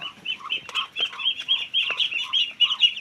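About 25 week-old Muscovy ducklings crowd a pen, peeping in a constant, high, overlapping chorus of close chirps with no talking.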